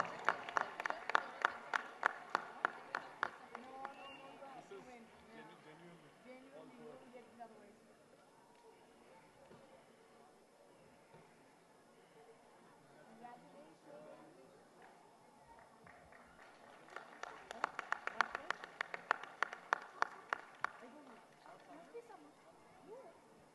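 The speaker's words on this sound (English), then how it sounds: "A huge round of applause for Winter House." Outdoor audience at a school Founder's Day celebration claps for Winter House in two bursts, a strong round at the start and another near the end, with a quieter stretch of speech and murmur between.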